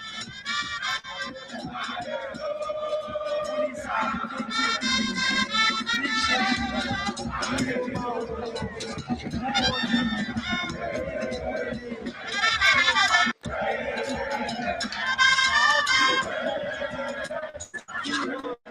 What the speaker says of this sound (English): It's a phenomenal atmosphere inside the stadium.